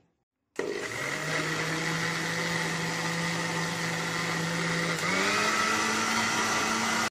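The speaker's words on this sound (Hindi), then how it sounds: "इन सभी को हम अच्छे से ब्लेंड कर लेते हैं 2 से 3 मिनट के लिए" A blender whirs into life after a brief silence, mixing ice cream ingredients with thick milk, a loud steady motor drone that shifts pitch slightly partway through and keeps running.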